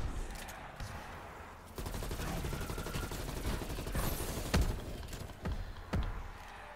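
Gunfire in the shooter Call of Duty Cold War, Outbreak mode: a dense rattle of rapid shots followed by a few sharper, isolated loud cracks, close and prominent.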